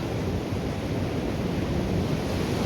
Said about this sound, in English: We are enjoying The beach, Lincoln City.